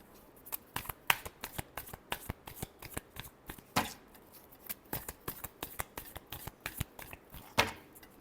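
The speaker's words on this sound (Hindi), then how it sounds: "Last shuffle." Tarot cards shuffled in quick repeated riffles and taps, a steady run of sharp papery bursts with a louder flurry near the end, close and fairly quiet with no talking.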